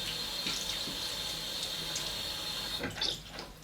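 A tap runs steadily into a sink while the face is wetted before a shave, a close continuous water stream with a few splashes near the end.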